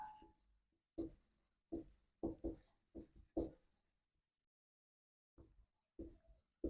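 Pen writing out a geometry answer by hand, a series of short scratchy strokes in bursts, close and quiet, with pauses between them.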